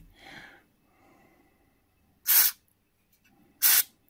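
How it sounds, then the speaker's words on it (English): Brake cleaner sprayed into a Honda CT110 postie bike exhaust, two short sharp hissing bursts about a second apart, close and loud over near silence, with faint softer sounds before them. "some brake cleaner come out the far end"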